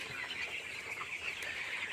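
A flock of 16-day-old Aman A and B breed chicks fills a poultry shed on a lightly misty morning with a faint, steady chorus of high chirping that continues without a break.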